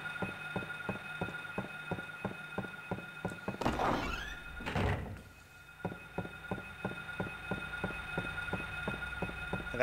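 A locked door is tried in the Silent Hill video game, giving a rough rattling burst of about a second and a half that cuts across a steady, evenly spaced mechanical thumping loop.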